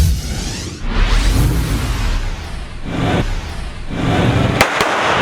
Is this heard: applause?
no